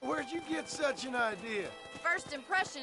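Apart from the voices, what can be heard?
No distinct noise like a dog, phone or traffic.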